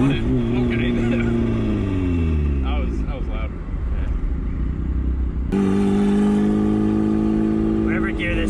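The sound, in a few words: turbocharged Mazda Miata engine accelerating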